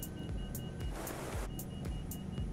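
A helicopter cockpit in the Microsoft Flight Simulator game sounds a warning: short electronic beeps repeat steadily about twice a second over a constant engine hum, with no talking.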